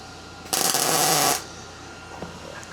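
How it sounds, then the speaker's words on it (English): A small Restorer belt sander cleans up metal on a custom rear bumper for a 1980 Dodge W150, one loud, close burst of abrasive grinding lasting under a second before quieter background returns. "Summit Racing sent me this little belt sander thingamajig"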